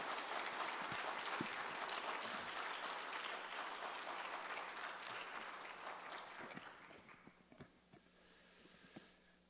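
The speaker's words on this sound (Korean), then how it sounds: "박수로 맞이합니다." A church congregation applauds to welcome a pastor to the pulpit at an evening revival prayer meeting, dense sustained clapping that gradually thins and fades toward the end.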